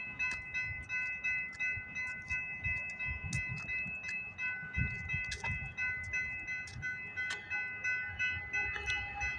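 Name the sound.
CPKC eastbound freight train passing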